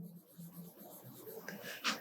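A pen moves quickly over paper as the area of a square is written out in a Class 7 maths lesson, a short, faint, close scratching with light rubbing noises.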